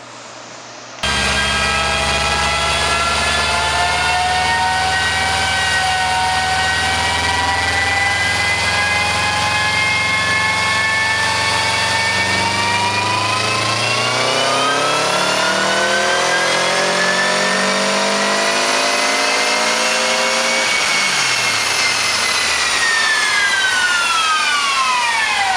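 A 2002 Subaru WRX with a TD04 turbo and 260k miles revs hard on a dyno during a tuning pull, one loud sustained sweep climbing in pitch before a sudden lift and falling wind-down.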